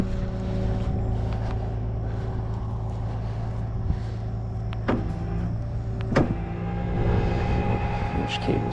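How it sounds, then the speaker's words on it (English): Tow truck winch hauling a cable tight to drag a BMW up a bank, a steady droning motor hum throughout with a few sharp metallic creaks and clicks near the end. "Winch cable's coming tight."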